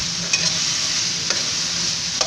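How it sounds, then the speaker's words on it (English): Vegetables sizzle steadily in a hot pan, with a few scraping stirs of a utensil breaking through the constant frying hiss. "keep stirring it and get all those veggies cooking flat out"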